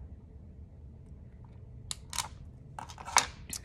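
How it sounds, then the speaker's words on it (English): Scissors snip excess elastic cord from a handmade heishi clay bead stretch bracelet, a few quiet, sharp cuts over a low background hum. "So you're going to trim off the extra."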